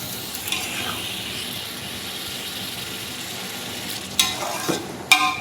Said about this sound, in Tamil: இப்போ பார்த்தீங்கன்னா சிக்கனும் பிரியாணி மசாலாவும் நல்ல கிரேவி கன்சிஸ்டன்சி வந்துருச்சு பாருங்கள்